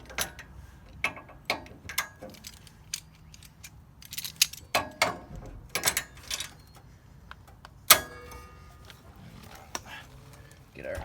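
Bolts on a racing tractor are tightened with a hand tool, giving scattered sharp ratcheting clicks and metallic taps in quick irregular bursts, fairly close in a quiet workshop.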